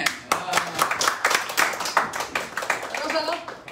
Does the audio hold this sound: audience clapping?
yes